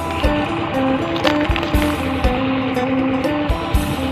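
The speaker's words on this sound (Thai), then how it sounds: "บ่มีแผงนะครับใส่เครื่องรถดันน้ำเอาครับ" An engine-driven pump drives water through drip lines in a sugarcane field at evening, giving a steady, loud mechanical drone with a regular low thump that runs throughout.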